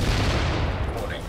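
A rapid, chaotic barrage of grenade explosions and gunfire in a video game, dense and loud throughout with overlapping blasts, while a voice is heard faintly underneath.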